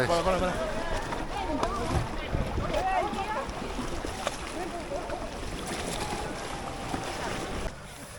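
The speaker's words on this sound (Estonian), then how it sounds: "Siplemine käib." Paddles working a small boat on a river during a marathon race, a steady wash of water and wind noise with voices talking throughout and a slight drop near the end.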